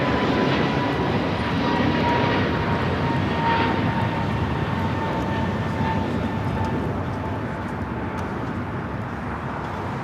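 An airliner takes off from runway 25 left at LAX, a sustained loud jet engine roar at a distance that holds steady, then eases slightly toward the end.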